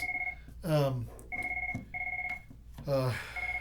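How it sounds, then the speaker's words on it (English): A mobile phone rings with a repeating electronic two-tone pattern, close and fairly loud, while a person speaks over it between the rings. "I don't know if I can mute my phone. Just have to wait for it to stop ringing."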